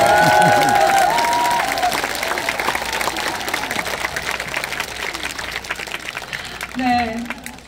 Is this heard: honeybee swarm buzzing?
no